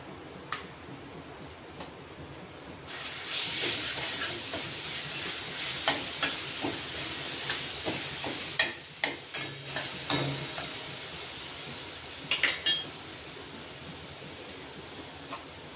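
Garlic-ginger paste frying in a hot pan, a steady bright sizzle that bursts in loud after a quiet start, with sharp spoon scrapes and clicks against the pan as it is stirred.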